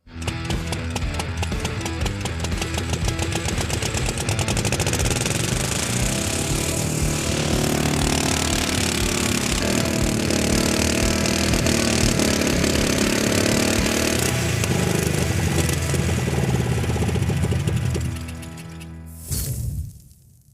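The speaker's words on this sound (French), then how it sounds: "on a démarré ce moteur, mais il est peu probable qu'on roule avec" A car engine, revived after the car was found stuck in ice, runs loud and rough, roaring continuously up close for a long stretch, then cuts off abruptly near the end.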